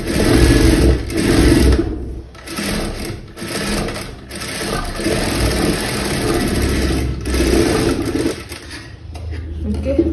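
Sewing machine running steady double stitches along the seam of a princess-cut blouse, a loud continuous motor whir with brief pauses and restarts, close to the mic and no voices over it.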